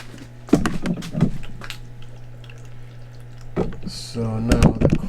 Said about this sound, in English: We can see the pump is running.